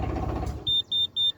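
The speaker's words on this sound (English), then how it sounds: "You'll hear that beep, then you just have to switch the key to the opposition." A narrowboat engine winds down after its stop button is pressed, the low rumble fading as a loud, close electronic beep sounds in four evenly spaced pulses.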